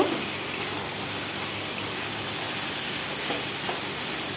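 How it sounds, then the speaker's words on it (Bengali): Taro and chickpeas frying in a pan as the water cooks off, a steady broad hiss and sizzle running evenly throughout with a few faint clicks. "এইভাবে ভাজতেই থাকবো, জলটাকে শুকিয়ে নেব"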